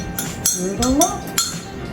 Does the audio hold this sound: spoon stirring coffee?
yes